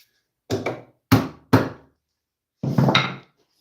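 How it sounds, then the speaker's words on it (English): A dull chisel is struck into wood with three sharp knocks, then a longer cluster of blows after a pause, each close and loud against silence. "This is not a sharp enough chisel."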